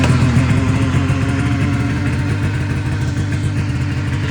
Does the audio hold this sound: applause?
no